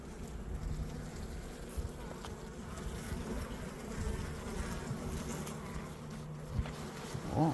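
Honey bees swarm around a frame lifted from an opened backyard beehive, a dense, continuous close buzzing drone with small shifts in pitch and intensity and no speech.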